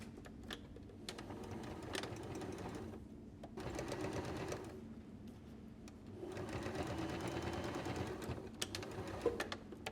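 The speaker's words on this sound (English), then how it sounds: "I'm going to turn it back to a straight stitch. I'm just going to sew it down." A sewing machine runs a straight stitch along the edge of a baby hat, buzzing steadily in three long bursts separated by brief pauses, close and fairly loud with no talking.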